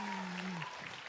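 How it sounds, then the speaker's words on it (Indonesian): A studio audience claps for a comedian at a stand-up comedy competition show in Indonesia, a brief burst of dense, steady applause heard over a soft sustained musical tone. "tepuk tangan sekali lagi untuk Babe Gian."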